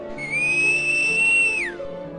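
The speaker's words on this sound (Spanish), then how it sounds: "Muchos escucharon sus silbidos." A single long, pure whistle holds a steady high pitch for over a second, then slides downward and fades, sounding thin and eerie.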